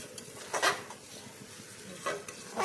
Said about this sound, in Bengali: খুবভাবে নাড়াচাড়া করলাম, কষান করতেছি আমি চালটা।